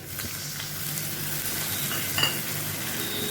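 Ginger, cumin and green chili paste fries in a pan, a soft, even sizzle close by with a light stir and a faint utensil click partway through.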